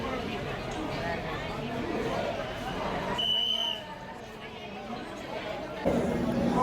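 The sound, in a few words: dense crowd chattering at Varanasi Junction railway station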